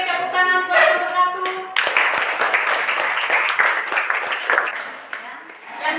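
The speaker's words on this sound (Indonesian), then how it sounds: "tepuk tangan buat kelompok" After a short spoken line, a small classroom group breaks into clapping for a student team, close and uneven hand claps continuing briefly before tapering off.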